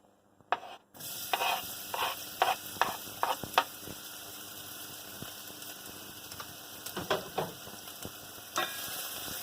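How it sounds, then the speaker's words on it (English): Onion hits a hot pan and begins frying, bringing a continuous sizzle that starts abruptly and carries on under irregular clinks and stirring scrapes of a utensil. "Add the onion."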